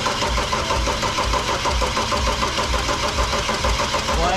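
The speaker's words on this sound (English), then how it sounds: "the motor's all back together. I guess we've got to start it and see if it's going to run again" A rebuilt single-turbo BMW E46 engine runs loud and close with a steady, rough, rhythmic chug. It never settles to a smooth idle. No voices are heard.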